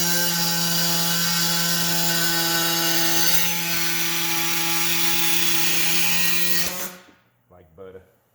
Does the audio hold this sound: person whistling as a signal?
no